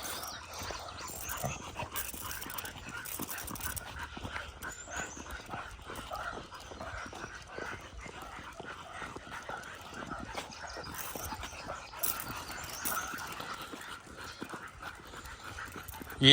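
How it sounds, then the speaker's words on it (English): Pit bull dogs panting on a walk outdoors, quick rhythmic breaths with scuffling paws and faint background noise, moderately close, with a voice briefly present. "Just walking the dogs."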